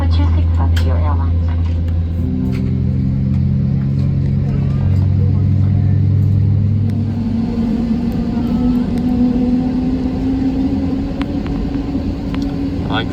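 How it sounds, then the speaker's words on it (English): Frontier Airlines Airbus A320neo engines in flight, a steady loud low drone with a shifting tonal hum filling the cabin, continuous throughout with no pauses. "I like the sound of the engines."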